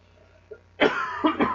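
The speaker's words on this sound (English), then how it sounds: "But a tickly cough coming out." A single tickly cough bursts out loud and close after a near-silent moment, followed by a couple more rough, throaty coughs, during a vape lounge live stream.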